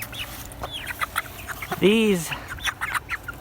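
Backyard flock of four hens and one rooster, with a loud, near clucking call rising clearly in the middle, surrounded by scattered softer bird sounds while a person talks briefly.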